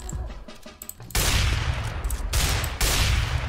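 Rapid bursts of gunfire in the shooter CS:GO, including a no-scope sniper headshot, with a quieter opening followed by loud, dense volleys that cut in sharply around one second and again near three seconds.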